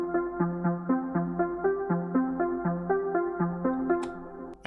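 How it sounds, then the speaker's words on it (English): Arpeggiated synth line cycling like a sequencer in an Afro House track, steady repeating plucky notes stepping through a pattern at an even pace, alone and clear. "This one, it's an arpeggio,"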